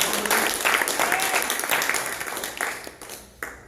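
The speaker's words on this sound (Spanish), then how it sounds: "¿Le puede dar una ofrenda de palmas al Señor?" A church congregation claps and applauds together in a dense, sustained wash of hand claps that fills the room, fairly loud and close, fading slightly toward the end with a few scattered louder claps.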